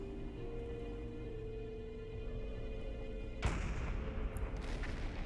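A submarine deck gun fires in the Silent Hunter 4 naval game, one sharp loud blast about midway that rolls into a broad booming decay over steady engine-like hum, with a faint second report after.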